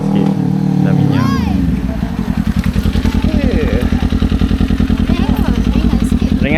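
Kawasaki Ninja 250 motorcycle being test ridden, a close engine that revs, drops, then settles into a fast pulsing idle-like throb, with voices talking over it.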